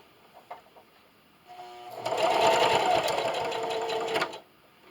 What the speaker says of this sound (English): I'm over here at my sewing machine, and I bumped up my length to a 3.